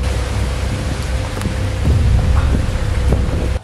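Thunderstorm outside with steady heavy rain and gusting wind, forming a loud continuous broadband roar with a few brief sharper cracks and no talking.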